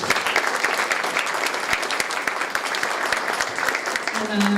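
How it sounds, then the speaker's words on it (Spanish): Lecture audience giving a warm welcoming round of applause for a guest speaker, dense continuous clapping filling the room at moderate loudness, tailing off as a voice begins at the end. "pido un caluroso aplauso de bienvenida."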